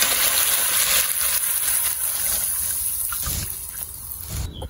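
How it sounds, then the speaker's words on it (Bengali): Water splashes steadily into a pan of fish curry with potatoes and well-fried spices for the gravy, a close, continuous pouring gush that slackens near the end. "ঝোলের জন্য জল।"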